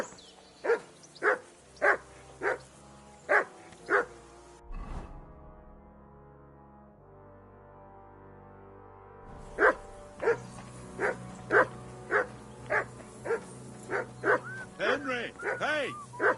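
A dog in Kingdom Come Deliverance 2 barks repeatedly in steady, evenly spaced bursts, pauses amid a low droning tone, then resumes barking and ends with whining yelps.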